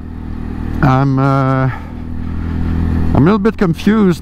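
Segway AT6 SX 570 ATV from 2022, with a 570cc single-cylinder engine of about 44 horsepower, revving in short loud bursts that rise and fall, under a nearby voice speaking.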